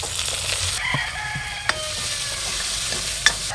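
Onions, fennel seeds, cinnamon and cloves sizzle steadily in a hot pan, a dense continuous frying hiss with stirring scrapes, while a rooster crows faintly in the background outdoors.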